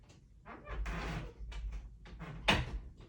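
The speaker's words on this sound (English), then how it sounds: "Hold on, let me close this door." An interior room door is pushed shut with a single sharp close near the end, after some shuffling and handling noises, with no talk over it.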